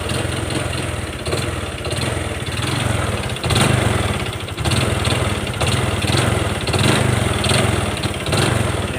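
A Honda Wave 125 motorcycle engine with a seized piston runs roughly nearby, chugging unevenly with periodic surges and a harsh, labored clatter.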